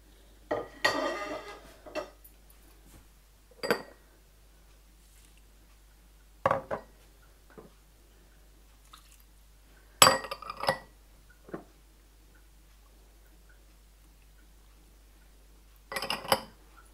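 Spices going into a large bowl while making grilled mutton chops, with sharp clinks of metal dishes and utensils in scattered bursts, close and otherwise quiet between knocks.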